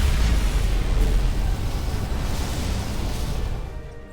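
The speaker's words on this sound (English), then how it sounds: "Dilithium explosion" Dilithium explosion in Star Trek: Resurgence, a loud, rumbling blast that holds a heavy roar before slowly fading away, with no talking over it.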